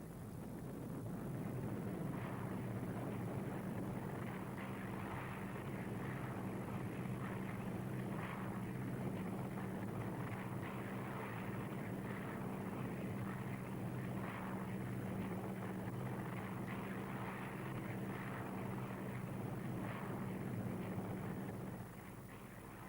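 A light aircraft engine drones steadily inside the cabin, a continuous, even hum with a faint low tone that lasts throughout and sounds fairly muffled and quiet.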